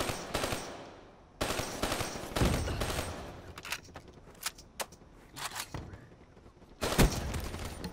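Rapid bursts of automatic gunfire in a shooter video game, with sharp volleys and single shots stopping and starting, loud and close, no talking.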